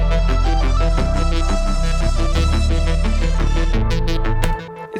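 Synth strings processed through a ShaperBox plugin play a dense, sustained chordal melody with a steady pulsing rhythm, loud and continuous before cutting out near the end, no talking.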